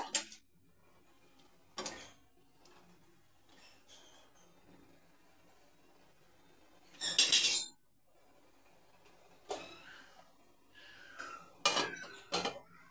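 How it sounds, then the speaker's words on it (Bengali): Fried red lentil fritters being turned and stirred in a pan with egg curry: quiet stretches broken by sporadic bursts of metal spoon scraping and clinking against the pan. "ভালো করে একটু ওপর নিচে করে নেড়ে দেবো"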